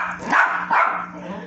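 Dog barking nearby: two sharp, fairly loud barks about half a second apart, followed by a lower trailing whine, over a steady background hum.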